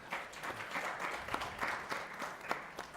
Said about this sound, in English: So a round of applause for our panelists.